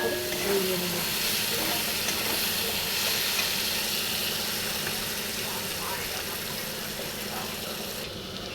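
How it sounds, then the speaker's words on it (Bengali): Chopped onions frying in hot oil until browned, a steady broadband sizzle that hisses evenly and continuously from start to finish, close and moderately loud. "এবারে পেঁয়াজটাকে লাল করে ভেজে নেব।"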